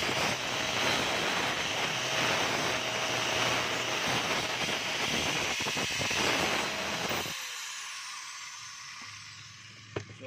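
A DeWalt DWE8100S 4-inch angle grinder being test-run, giving a loud, steady whirring roar up close that cuts off abruptly and leaves a faint fading hum.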